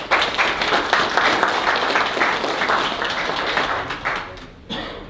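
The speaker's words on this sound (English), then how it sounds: "Let's give him a round of applause as well" An audience at a village board meeting claps in a round of applause, a lively patter of many hands that tapers and fades near the end.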